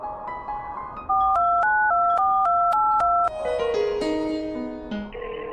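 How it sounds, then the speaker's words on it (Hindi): A mobile phone being dialed, heard as a quick sequence of bright electronic keypad tones followed by a short melodic ringing tune, clear and close with no voices. "अपना फोन निकालती है और एक नंबर डायल करती है।"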